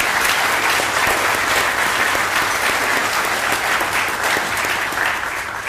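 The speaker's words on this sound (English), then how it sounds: "Please let's give them one more deserved round of applause." A large audience at a Teacher of the Year awards ceremony gives a long, steady round of applause for the nominees and finalists, dense and loud clapping that stays even for nearly six seconds with no talking over it.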